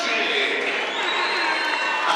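Packed crowd noise at an under-18 men's basketball playoff final in the UK, a steady loud roar of cheering and shouting that stays constant throughout, with no single voice standing out.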